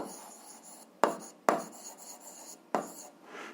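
Pen or chalk writing out an algebra equation by hand, with continuous scratchy strokes broken by a few sharp taps, close and fairly quiet, no talking.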